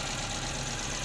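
A 2010 Chery QQ 1.1-litre car engine idling smoothly, a steady close hum with no change in level over a brief second.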